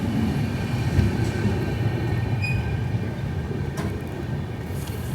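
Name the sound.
Garib Rath Express train arriving at station platform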